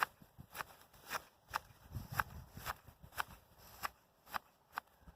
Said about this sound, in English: So we here are going to use shears.